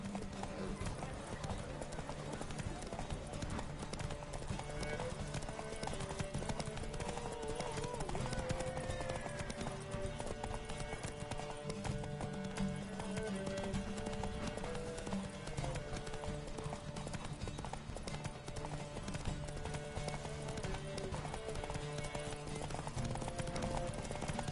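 Horses gallop in a race in The Witcher 3, a steady rapid clip-clop of hooves running continuously with music and a voice speaking over it.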